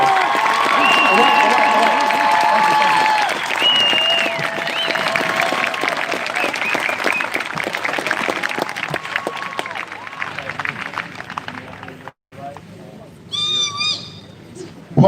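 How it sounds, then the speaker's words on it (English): A crowd at a rally after a march in Portland, Oregon, breaks into loud applause and cheering with whoops, fading over several seconds, then a brief pause followed by scattered voices and a few high shouts. "Give this man a round of applause."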